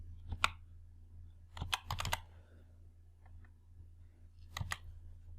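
Keys tapped on a computer keyboard while entering a cell reference in Excel, in three short bursts of quick clicks with pauses between them, close and fairly soft, with no one talking.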